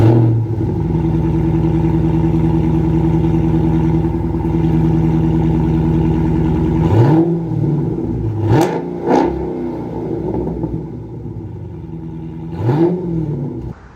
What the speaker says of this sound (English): Let's go ahead and take a listen to that exhaust note.